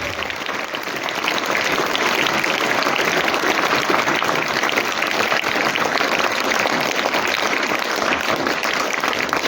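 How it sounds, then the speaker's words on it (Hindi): An audience at a school ceremony in Biharipur, Patan, where scooters are given to top girl students, claps in loud, dense, sustained applause. It runs steadily for the whole stretch without a break. "अतिथियों से भी आग्रह करूंगा कि वो भी अपनी तालियों को इन बच्चों के आशीर्वाद स्वरूप लगातार बजाते रहें।"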